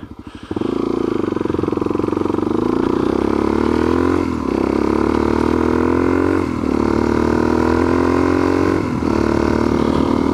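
Motorcycle engine fitted with a new aftermarket exhaust, heard on a mountain pass road: a loud, steady, close engine drone that dips briefly three times as the rider shifts, then climbs again.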